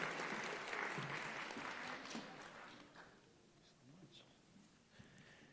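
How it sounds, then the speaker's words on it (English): Audience at a convocation ceremony claps in a dense burst that gradually thins and fades, with a few voices faintly underneath. "Round of applause for him again."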